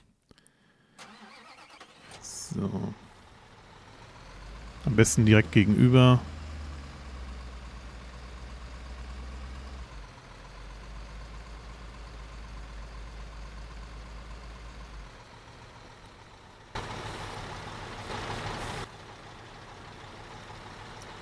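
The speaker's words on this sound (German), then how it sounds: "Da fahre ich den LKW mal rüber." A truck in the construction game Bau-Simulator 2015 starts up and rumbles along at a steady low drone, with a brief burst of clattering near the start and a short rise late on. A voice speaks briefly over it.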